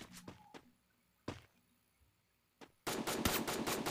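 Gunfire in the Free Fire mobile battle game: a few sharp isolated shots early, then a loud dense burst of rapid automatic fire in the last second.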